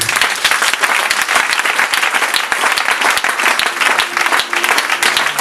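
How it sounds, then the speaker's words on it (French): Sustained, loud applause from a church congregation at a French-language service, dense steady clapping throughout with a voice faintly audible beneath. "Acclamez cette parole pour nous."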